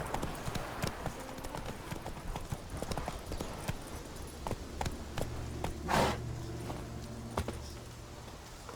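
A horse in The Witcher 3 clip-clops at a quick, steady gait, its hoofbeats close and continuous, with a brief swell of another noise near the middle and no voices.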